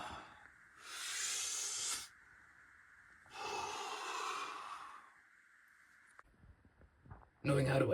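A person exhales audibly during a vocal warm-up exercise, producing two long, breathy hissing breaths separated by a pause, with a low steady hum underneath and a brief louder sound at the end.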